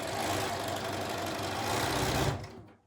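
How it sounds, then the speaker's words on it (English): A sewing machine stitches quilt fabric in a fast, steady, close mechanical whir lasting a few seconds before stopping abruptly. "I'm going to take and sew this through real quick"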